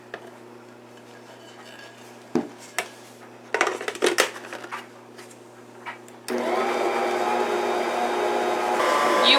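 Electric mixer running on low speed through cheese straw dough, a steady whirring motor hum that starts partway in and holds at a constant level, preceded by scattered clinks and handling noises.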